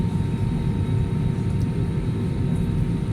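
An airplane sits on the ground after landing in the Maldives, its engines giving a steady low rumble and hum inside the cabin, with no one talking.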